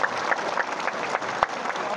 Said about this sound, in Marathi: एकदा जोरात टाळ्या वाजायच्या आहेत